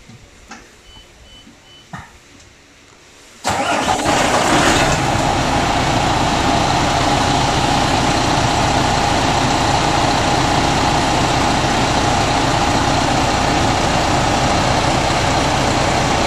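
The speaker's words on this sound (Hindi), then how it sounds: "गाड़ी स्टार्ट करो।" A MAN truck in for air-conditioning compressor repair sits quiet until its engine suddenly fires up, then settles into a loud, steady, close idle.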